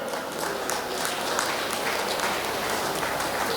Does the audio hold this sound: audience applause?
yes